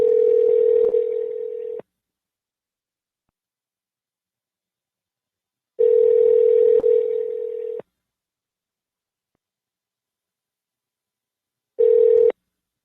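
A phone call ringing out on a radio morning show: three long, loud ring tones with silent gaps between them, the last one cut short, and no voices.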